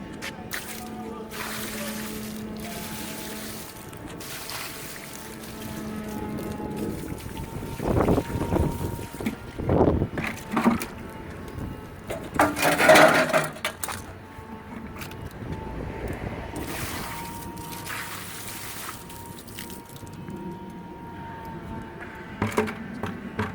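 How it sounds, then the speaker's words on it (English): Water running over an electrolysis-derusted bare metal part as it is rinsed, a steady splashing wash with louder bursts of gushing and spattering in the middle, close to the microphone with no talking. "I'm going to rinse it off real quick."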